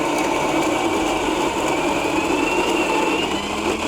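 An espresso grinder on a La Pavoni Domus Bar grinds coffee into a 57 mm portafilter, giving a steady, close, continuous whirring drone for about four seconds with no talking.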